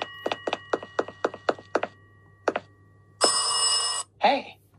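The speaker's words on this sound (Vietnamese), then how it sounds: "mình sẽ xuống nghe chiếc điện thoại" A telephone rings in a video game, with a string of short rapid rings followed by a longer steady ring and a brief electronic tone, loud and clear with no talk.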